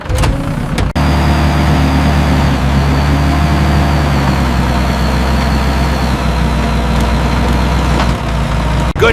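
A mini excavator's engine runs under heavy throttle while digging drainage ditches on a farm, a loud, steady low diesel drone holding constant throughout with no talk.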